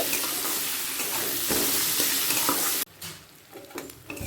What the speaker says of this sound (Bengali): দিয়ে ভালো করে সব উপকরণগুলো একসাথে কষিয়ে নেব